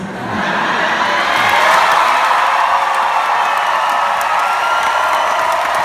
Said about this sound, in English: The crowd go wild. Standing ovations for King Hoberon!